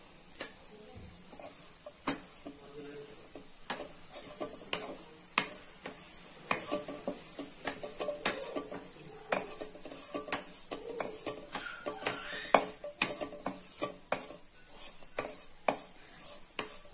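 Small cut pieces of bread being toasted in a pan, with a spoon stirring and scraping in frequent irregular clicks and taps over a soft sizzle, close and without talk.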